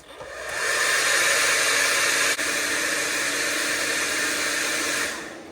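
A hot air tool blows steadily onto the temperature sensor of a DEEPOWER (VeloTek) 12.8V 100Ah LiFePO4 lithium battery, making a loud, continuous broadband whoosh that runs almost five seconds before cutting off.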